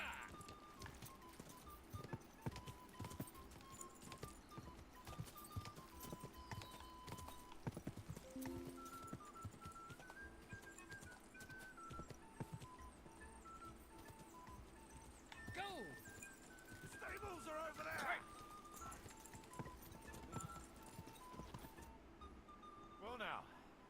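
Horses' hooves clip-clop steadily throughout, with occasional neighs and whinnies, in the medieval game Kingdom Come Deliverance 2, while people talk over the riding sounds.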